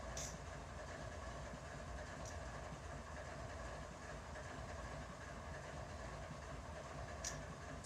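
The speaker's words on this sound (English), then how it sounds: "it's because there's a freaking train there" A freight train rolls past in the Run8 train simulator, a steady continuous rumble with faint rail clatter and a few brief high squeals, moderately loud throughout.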